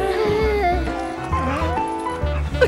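A person imitates a dog, giving loud, close barks, yips and whimpering whines in quick succession, with pitch rising and falling from one bark to the next.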